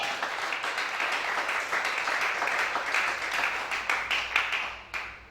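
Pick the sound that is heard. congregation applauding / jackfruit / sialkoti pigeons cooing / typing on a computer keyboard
congregation applauding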